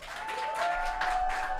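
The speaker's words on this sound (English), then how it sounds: "I want you to give her all of the love you have left in your heart through this applause" Live audience applause and cheering for a poet taking the stage at a Nuyorican Poets Cafe open mic held at the Loisaida Center, a dense, steady wash of clapping with a few whoops, loud and close.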